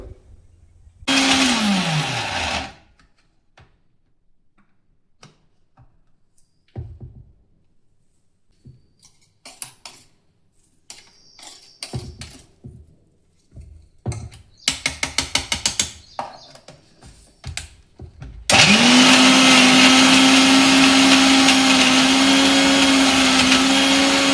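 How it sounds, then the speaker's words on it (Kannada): An electric mixer grinder blends a thick red chilli chutney with jaggery and salt, no water added. Short bursts of whirring and clunks come first, and the motor then runs loud and steady through the end. "ನೀರು ಹಾಕೋದ್ಲೆ ಹಂಗೆ ಮಿಕ್ಸರ್ ಮಾಡಬೇಕು."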